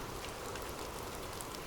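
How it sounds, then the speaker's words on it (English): Heavy, abundant rain falling steadily, a dense even wash of drops with no voices. "The sound of abundant rain."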